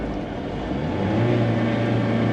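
Engine drone from a 1994 Ford Ranger pickup running with nitrous, heard from inside the cab as the truck slows into second gear, a steady low rumble that grows slightly louder partway through, with no talking.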